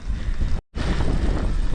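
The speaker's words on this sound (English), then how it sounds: "It's pretty windy today." Strong wind buffets the microphone on an exposed mountain bike trail at Glendhu, a loud continuous roar broken by one brief drop to near silence partway through.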